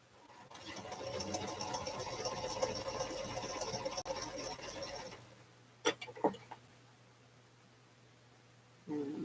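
A sewing machine runs a quick, steady whir of stitching for about five seconds, then stops, followed by a few soft clicks and rustles in a quiet studio.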